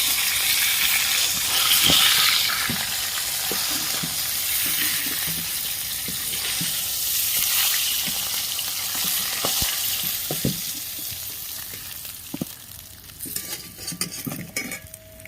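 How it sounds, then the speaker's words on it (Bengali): Steady sizzling of summer vegetables frying in a pan, with scattered clinks and scrapes of a utensil stirring, ending with a brief burst of clattering. "এবার আমি সবজিগুলো ভেজে নিচ্ছি"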